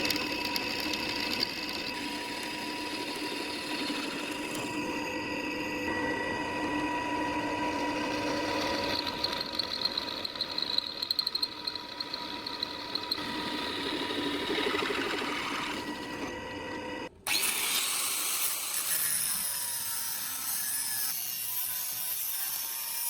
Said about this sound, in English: I'm preparing more small components by drilling holes and shaping them with a grinder.